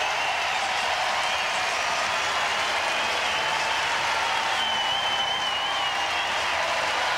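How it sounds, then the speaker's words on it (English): Sustained applause from a night-session tennis crowd at the US Open for Andre Agassi, a dense steady wash of clapping that stays even throughout. "The crowd appreciating the quality of this tennis out here tonight. Andre gets the hand."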